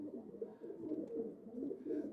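Pigeons cooing softly nearby in a short run of repeated low, throaty calls, with no talk.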